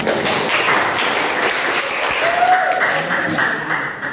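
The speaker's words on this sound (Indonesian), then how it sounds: "Silakan boleh tepuk tangan." Students in a classroom clap for a group that has just finished presenting, a loud sustained burst of applause with some voices mixed in.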